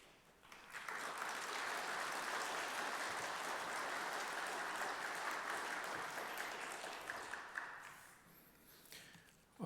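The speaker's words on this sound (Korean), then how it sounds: "나오실 때 여러분들 박수로 맞아주시면 감사하겠습니다." A church congregation at a dawn Bible meditation seminar applauds a pastor's entrance, a broad, steady roar of clapping that swells in after a moment, holds for several seconds, then tapers off.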